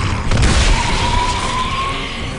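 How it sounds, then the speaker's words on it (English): A sawed-off shotgun blast in Gears of War 3 erupts as a loud, dense boom, then rolls into a sustained roaring rumble with a faint high whine lasting throughout. "especially if you get close enough to put the new sawed-off shotgun to work"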